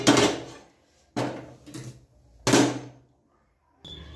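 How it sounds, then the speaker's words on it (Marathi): A metal kadai is set down on a gas stove in a home kitchen while cooking chana masala, heard as several separate sharp clunks and thuds with short scraping rattles between them, close and fairly loud. "आणि आता याच्यावर मी कढई ठेवते."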